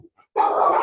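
Dog barking at kennels, a sustained loud bark or yelp starting after a short quiet pause, close to the listener.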